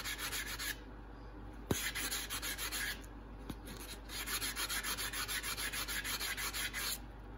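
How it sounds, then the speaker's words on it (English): Rust is polished off a Snap-on FV71 tool with a pad in quick, steady rubbing strokes. The sanding-like swishes pulse rhythmically, close and fairly quiet, broken by a brief pause and a couple of sharp clicks, with no voices. "I'm just gonna see if I can polish off some of that rust"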